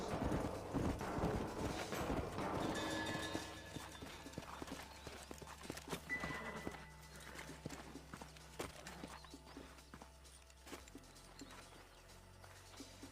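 Horse hooves clip-clop on the ground amid game sounds in Red Dead Redemption, busy and fairly loud at first, then thinning out and fading.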